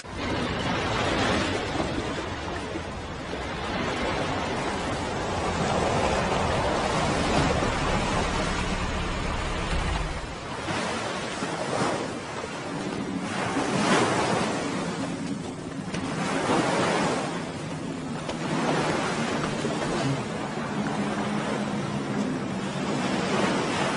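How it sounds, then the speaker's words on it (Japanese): Ocean waves rolling in a steady roar, with surges rising and falling every few seconds and a windy rush, no voices. "波の音で海があるのは分かるけど"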